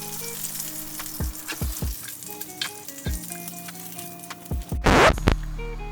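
Lamb chops sizzle in a hot pan with a steady frying hiss, punctuated by close clicks and scrapes as they are moved and turned, ending in a brief louder burst of spattering.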